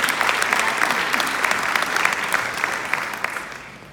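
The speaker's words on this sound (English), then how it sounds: "Let's clap it up for educators right now." Loud, sustained applause from an audience clapping for educators, dense and steady throughout with no speech over it.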